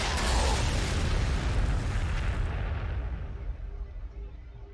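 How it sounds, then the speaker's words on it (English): In the video game Warhammer 40,000: Sanctus Reach, frag missiles explode in a loud, rumbling barrage up front that rolls on and slowly fades to a quieter tail. "Alright, missiles, throw some frag there."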